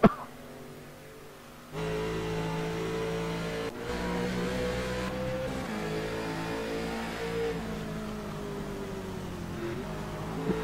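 Race car engines in a sim racing game at Road America hum quietly, then surge into a loud sustained rev with a sharp shift break, holding a droning, slowly wavering pitch to the end.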